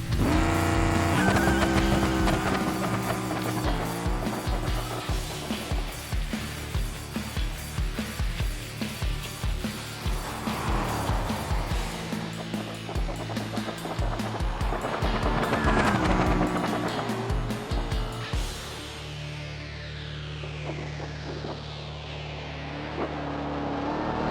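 A drag racing car makes a no-prep pass down the strip, its engine roaring loud and close through a series of rising, stuttering revs before the sound drops away near the end.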